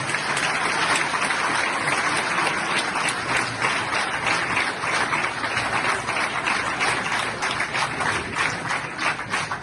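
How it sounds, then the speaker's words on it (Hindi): Sustained, dense applause from a large audience fills the whole stretch, a steady wash of clapping with no voices on top. "तो पाकिस्तानियों के लिए हम सबको ताली बजानी चाहिए।"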